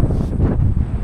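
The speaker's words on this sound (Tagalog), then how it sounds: "Mahangin." Strong wind buffeting the microphone on an open hilltop viewpoint in Itbayat, Batanes, a continuous low roaring rush that stays loud for the whole second, with no voices.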